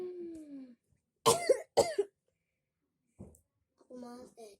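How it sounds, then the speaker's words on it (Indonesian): A person coughs sharply twice in quick succession and once more faintly later, between short stretches of quiet talking in a home. "Aku malas dengerin kamu batuk mulu dari kemarin."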